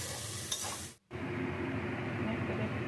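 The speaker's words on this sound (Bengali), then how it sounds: "আর এখানে আমি পেঁয়াজগুলো ভেজে ফেরেস্তা করে আমি আবার তুলে নেব।" Onions fry in hot oil for a sour biryani, giving a steady close sizzle with brief stirring scrapes and a short break near the one-second mark.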